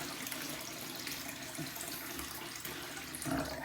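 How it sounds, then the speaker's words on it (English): Tap water runs steadily into a bathroom sink being filled before a safety-razor shave, a close continuous splashing hiss with a brief louder gush near the end and no voices. "Had to fill up the sink a little bit more."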